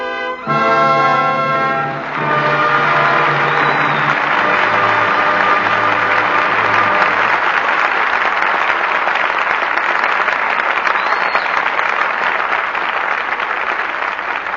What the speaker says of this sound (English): But your applause for tonight's performance calls our stars back to the footlights.